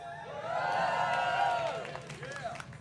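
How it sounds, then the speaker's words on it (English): A crowd at an outdoor Trafalgar Square rally cheers and whoops for the short story, with scattered clapping, a loud swell that peaks and then tapers over about three seconds. "Can we have a cheer for the short story?"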